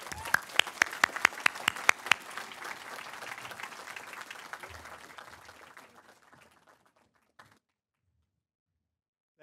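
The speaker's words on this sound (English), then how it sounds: "please give yourself a round of applause" Graduates at a law school commencement applaud with a burst of sharp, dense clapping that starts loud and thins out, fading to near silence within about seven seconds.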